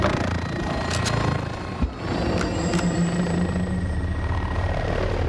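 A helicopter in Call of Duty Modern Warfare thrums steadily nearby, with a low rotor drone and a few sharp impacts cutting through.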